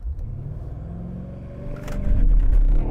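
A BMW X6M sits at a standstill with a low rumbling idle, then accelerates hard uphill as the engine surges louder into a deep roar near the end.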